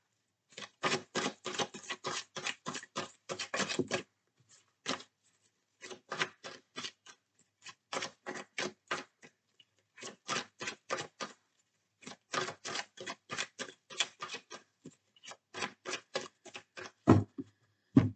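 Oracle cards being shuffled by hand in bursts of quick, papery riffling and patting, close and fairly loud, separated by brief pauses, with no voices.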